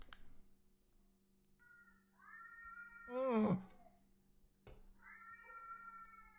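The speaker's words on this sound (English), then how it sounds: "The stray cats are meowing so loud again." Stray cats meow loudly outside an apartment: two drawn-out meows bracket a sharp, harsher yowl in the middle, with a brief exclamation from a person.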